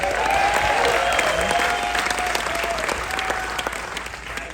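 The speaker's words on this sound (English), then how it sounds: "Another warm round of applause for Meredith Burkich and Ryan Marsden" Audience on a cruise-event stage program gives a warm round of applause for two speakers, dense clapping from a sizable crowd with a few whoops, gradually thinning toward the end.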